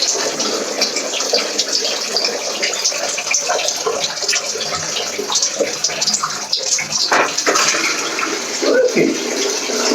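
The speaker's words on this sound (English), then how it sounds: "Flushing the loo. Doing the macerating." A newly installed macerating toilet in Spain is flushed during a plumbing test, giving a steady loud rush of water and whirring churn that runs unbroken for the whole stretch.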